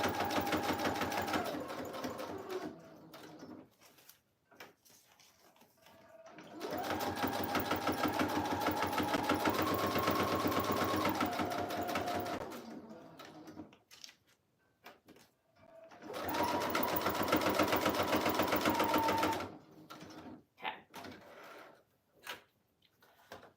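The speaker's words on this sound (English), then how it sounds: "now I'm gonna sew the pocket on" A sewing machine runs a straight stitch attaching a vellum pocket, in three long steady rattling runs with short pauses between, close and clear.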